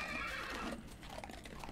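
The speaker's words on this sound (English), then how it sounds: "I'm definitely taming a horse" A horse in the Minecraft Technic modpack gives a short, fairly quiet whinny that falls away, followed by a few light clip-clop hoof sounds.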